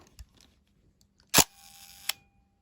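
A Hasselblad V-system medium format camera shutter fires with a sharp click, a half-second gap, then a second click closing, in a quiet room.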